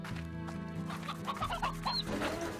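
Chickens in the video game Slime Rancher cluck and chatter in short bursts over a steady background hum, fairly quiet and with no speech.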